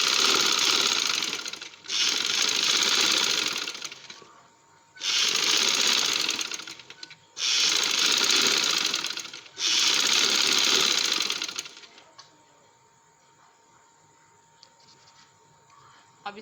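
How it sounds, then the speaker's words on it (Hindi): A sewing machine stitching trouser fabric runs in five loud, steady bursts of rapid mechanical rattling, each a couple of seconds long and separated by short pauses, close up with no talk, then fading to a quiet hum. "उससे एक पाँव छोड़ के मैं सिलाई लगा रही हूँ।"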